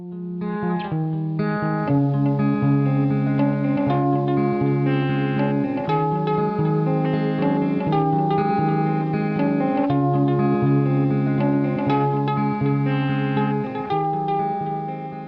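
Guitar played through delay and echo effects, in the style of post-punk or darkwave, with sustained chords and repeating notes ringing into one another in a steady wash, with no talk over it.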